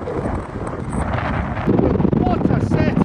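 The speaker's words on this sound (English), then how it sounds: "the wind's getting up as well" Strong wind buffets the microphone on a bridge with a steep gradient, a constant roaring rush that swells louder in the last second and a half. A voice is heard faintly in the background.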